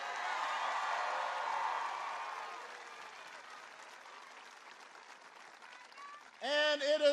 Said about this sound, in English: can everybody please give Lucas a big round of applause